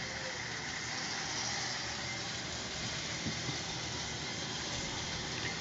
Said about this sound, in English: I thought that one was going to squeal, but it's running all on its own